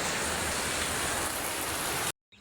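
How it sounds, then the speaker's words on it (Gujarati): Heavy rain falls in a village at dawn, a loud, even roar of downpour that cuts off abruptly near the end, with no talk. "જબરજસ્ત વરસાદ એક વાર ફરી એન્ટ્રી મારી ગયો."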